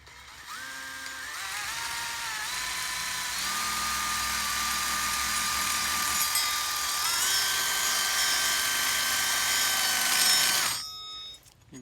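An electric drill spins up and runs steadily for about ten seconds, its motor whine rising and holding loud and close while it bores a level hole, then it winds down and stops abruptly near the end.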